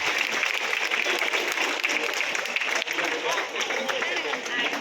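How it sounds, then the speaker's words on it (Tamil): Steady, dense applause from an audience at a cash-prize award event, loud and continuous throughout with a faint murmur of voices mixed in. "உங்கள் பலத்த கரகோஷத்தை எழுப்புமாறு கேட்டுக்கொள்கிறேன்."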